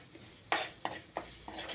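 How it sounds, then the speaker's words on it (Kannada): Food is stirred while frying over a low flame for aloo paratha, with four crisp spatula scrapes against the pan at a regular pace over a quiet sizzle. "ಸ್ವಲ್ಪ ಸಣ್ಣ ಉರಿಯಲ್ಲೇ ಫ್ರೈ ಮಾಡ್ಕೊಳ್ತಾ ಇದ್ದೀನಿ"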